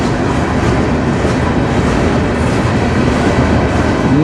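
A CN freight train rolls past close by on the Strathroy Subdivision near Sarnia, Ontario, a loud steady rumble of wheels and cars with rhythmic clatter and a faint squeal near the end.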